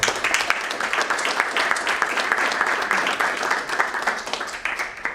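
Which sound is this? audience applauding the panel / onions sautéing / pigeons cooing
audience applauding the panel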